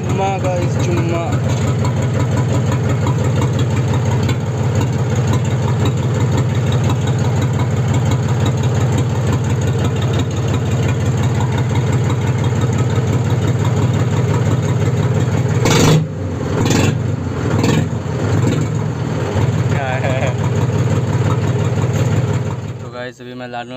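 A Mahindra 275 DI Bhoomiputra tractor with a failed clutch plate idles with a steady low drone close to the microphone, a few brief revs and knocks late on.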